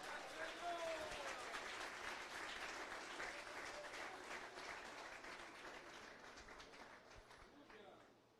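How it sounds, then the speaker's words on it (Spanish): A church congregation at a regional conference breaks into sustained applause, dense and loud at first, then gradually thinning and fading out over several seconds. "Denle un aplauso al Señor."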